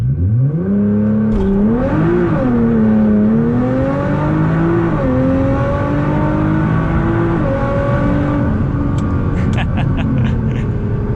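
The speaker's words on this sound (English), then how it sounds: "keep it in automatic, and we'll do a quick launch control" A 600 whp Nissan GT-R launches hard from a standstill using launch control, its engine loud and close as revs climb through several rising, upshifting sweeps with a brief flurry of clicks at the end.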